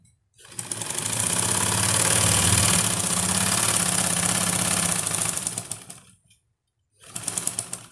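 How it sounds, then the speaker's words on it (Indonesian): Sewing machine stitching a bed sheet straight down: a steady, loud, fast mechanical whir and clatter running for about five seconds, then a brief pause and another short burst of stitching. "Sekarang kita jahit lurus ke bawah."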